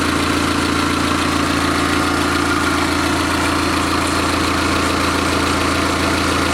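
A carbureted engine converted from fuel injection and computerized coil-pack ignition, fitted with a vaporization system, idles steadily and loudly throughout with a constant low rumble.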